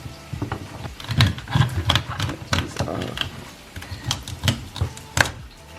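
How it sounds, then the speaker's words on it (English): Knife chopping vegetables and onion on a cutting board while beef pot roast cooks in a slow cooker, giving a run of irregular close, crisp taps with a soft clatter between strokes. "now we're gonna cut up our veggies while we got that cooking"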